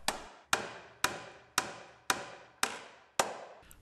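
Seven sharp, evenly spaced hammer blows drive nails into a timber hip rafter on a roof, each strike ringing briefly and decaying before the next, close and clear with no talk.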